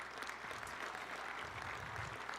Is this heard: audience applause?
yes